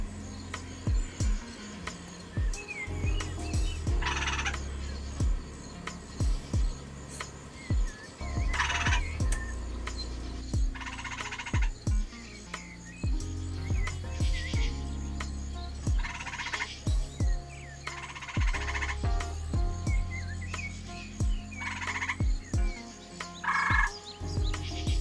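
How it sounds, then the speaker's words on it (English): An eastern gray tree frog in a vivarium calls repeatedly in short, loud, trilling bursts spaced a few seconds apart, close to the microphone, with faint chirps in the background. "recording more audio of this little tree frog calling"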